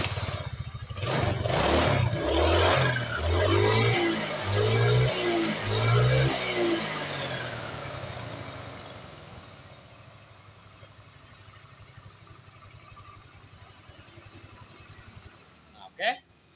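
A Suzuki Nex motorcycle engine with an ignition fault clatters and revs unevenly, rising and falling several times up close, then settles to a quieter idle before a sharp click near the end.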